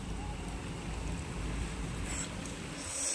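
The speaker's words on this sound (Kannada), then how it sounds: "ಜೋರು ಗಾಳಿ ಜೊತೆ ಮಳೆನೂ ಬರ್ತಾಯಿದೆ" Strong wind blows in a steady, rushing roar with rain falling, close and loud against the microphone, heard from indoors behind closed doors, with no one speaking.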